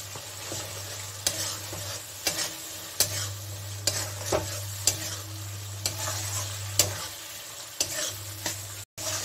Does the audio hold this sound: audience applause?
no